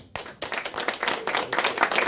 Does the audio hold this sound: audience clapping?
yes